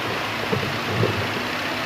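Washing machine motor on an old-model machine being tested for a fault, giving a steady low hum with a faint rattle, close and continuous with no voices.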